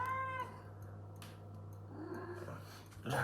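A female cat in heat lets out a drawn-out, wavering meow near the start, followed by quieter shuffling and a brief low sound near the end over a steady background hum.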